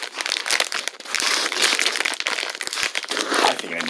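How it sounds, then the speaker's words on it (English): Crinkly plastic packaging around Royal Family Japanese mochi crackles and rustles loudly in bursts as it is pulled open close to the microphone, with a voice speaking briefly. "Let me go ahead and open this up if I can."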